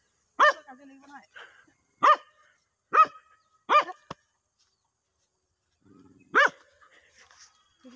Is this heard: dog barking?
yes